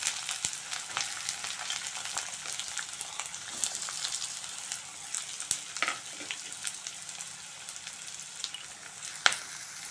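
Bay leaf, cardamom and chopped onion frying in hot oil in a home kitchen pan, a steady close crackling sizzle with scattered sharper pops and faint stirring, no voices.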